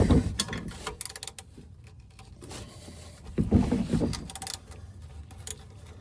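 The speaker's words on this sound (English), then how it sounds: "So let's get a wrench on here." Wrench turning a bolt on equipment during maintenance, with bursts of quick ratcheting clicks and metallic rattles, close and fairly quiet, without speech.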